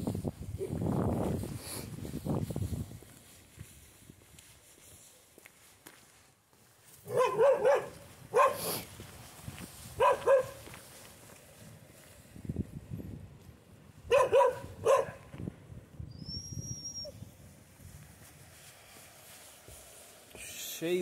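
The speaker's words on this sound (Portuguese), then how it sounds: "Cheio de cachorro." Several dogs barking in the village of Puyuhuapi on the Carretera Austral, loud bursts of barks in clusters with quieter stretches between, and people talking softly nearby.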